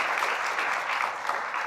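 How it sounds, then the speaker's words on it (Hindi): An audience claps together at a spiritual talk, a dense, even burst of applause that fills the room and holds steady throughout, with no voices over it. "वाह, इस बात पे तो तालियां होनी चाहिए।"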